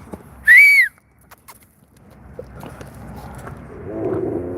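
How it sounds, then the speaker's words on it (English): A person outdoors in a field gives one loud, sharp, rising-then-falling whistle lasting under half a second, followed by quiet rustling and a low murmuring voice. "let me do a nice big whistle"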